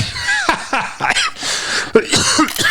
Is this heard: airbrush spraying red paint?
no